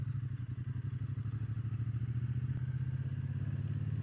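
Steady, loud engine drone from a Triumph Bonneville T120 motorcycle being ridden over Honister Pass near Buttermere in the Lake District, with a low rhythmic throb that holds constant throughout.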